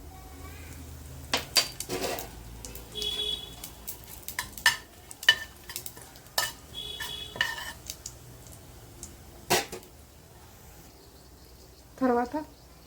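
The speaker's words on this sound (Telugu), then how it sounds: "ఆయిల్ కాగిన తర్వాత దీంట్లో కొన్ని మసాలా మనం వేసుకోవాలి." Whole spices frying in hot oil in a pan for a Telangana-style mutton curry, with scattered crackles, spoon stirring and clinks against the pan amid quiet kitchen noise.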